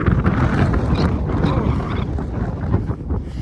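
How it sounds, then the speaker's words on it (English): Strong 50 mph wind gusts across the hilltop of Clougha Pike in the Forest of Bowland, buffeting the microphone with a constant, loud, rumbling roar. "this bloody wind's strong"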